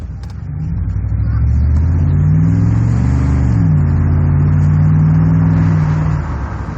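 A 1997 Chevrolet C1500 pickup with a 5.0 engine revs hard on the move, its loud, close drone climbing in pitch, holding at a steady high roar, then easing off near the end.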